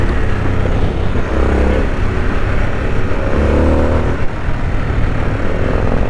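A Harley-Davidson Sportster S with a 1250cc engine pulls under acceleration with a steady, throaty drone and a low rumble. It stays loud and continuous throughout, and no voices are heard.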